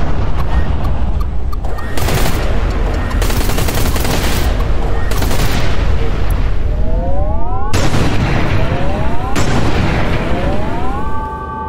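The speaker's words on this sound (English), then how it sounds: "Ooh, so many explosions." Gunfire and explosions in the space shooter game Everspace 2, dense continuous rapid-fire shots with repeated booming blasts and rising laser-like sweeps, loud and relentless throughout.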